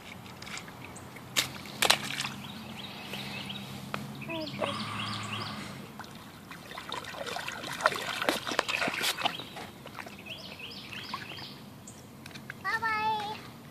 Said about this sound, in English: You gonna do the splish splashes?